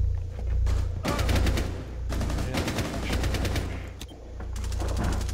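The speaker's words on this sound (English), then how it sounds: "Frost is right outside a workshop shooting" Gunfire in Rainbow Six Siege: a shotgun firing in close, loud bursts among rapid repeated shots, with heavy booming low end and pauses between volleys.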